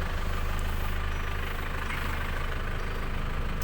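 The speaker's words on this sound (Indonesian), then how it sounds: "Dan ini suara mesinnya" A 2002 Isuzu Panther LV idles steadily, a continuous low engine rumble with broadband mechanical noise held at an even level throughout, with no talking.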